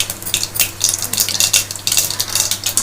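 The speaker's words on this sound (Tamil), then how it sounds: "இப்போ வெறும் கடுகு ஒண்டி போடுறோம். நல்லெண்ணெய்." Mustard seeds spluttering in hot sesame oil, rapid irregular pops and crackles close and loud over a low steady hum.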